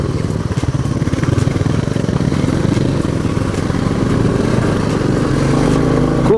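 A motorcycle rides a mountain road toward Nathula in Sikkim, its engine a steady, loud mid-pitched drone close by that holds throughout with slight throttle swells and rumble.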